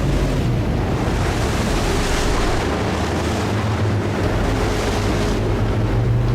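Tidal water surging through Horizontal Falls on the incoming tide, heard from a boat: a loud, steady roar of rushing water and surf with wind buffeting the microphone throughout, no voices.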